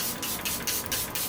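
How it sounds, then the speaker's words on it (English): Setting spray mists out in several short, crisp hissing bursts at an even rhythm, close and moderately loud, with no voices. "Setting spray."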